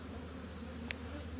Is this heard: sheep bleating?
no